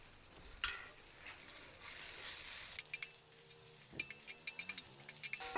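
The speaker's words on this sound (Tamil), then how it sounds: "நல்லா மிக்ஸ் பண்ணணும்." Fried peanuts and fresh coriander are stirred in a pan for Maharashtrian thecha chutney: a soft sizzle, then a quick run of sharp clinks and scrapes from a spoon against the pan.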